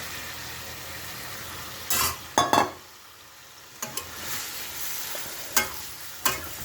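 Ash gourd pieces tossed into a hot pan and stirred, giving a few clattering bursts and a sharp clink over a continuous background sizzle.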